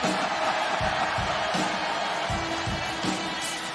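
A wrestling crowd in a Chicago arena roars and cheers throughout, a loud continuous wash of voices with whoops rising and falling in waves.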